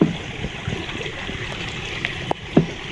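A strong water leak flows steadily, a close, constant rushing hiss broken by a few dull knocks near the end.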